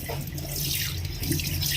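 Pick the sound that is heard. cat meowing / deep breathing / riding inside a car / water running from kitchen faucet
water running from kitchen faucet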